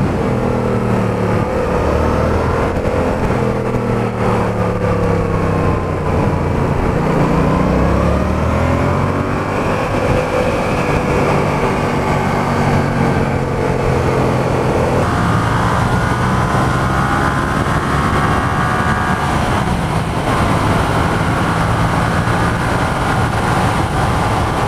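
A Yamaha XSR 700 motorcycle engine revs hard and repeatedly, its pitch sweeping up to the rev limiter and dropping back, loud and close throughout.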